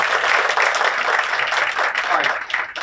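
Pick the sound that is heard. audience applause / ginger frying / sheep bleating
audience applause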